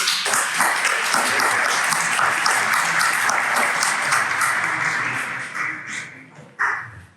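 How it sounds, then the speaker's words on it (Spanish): A large audience bursts into loud, sustained applause at the opening of a true-crime conference day in Tenerife, dense clapping that holds steady for several seconds before thinning out, with a final swell of claps near the end. "un fuerte aplauso"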